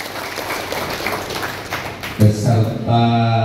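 An audience at a KONI sports committee working meeting in Tegal breaks into steady, moderately loud applause that fills the room, with music entering near the end.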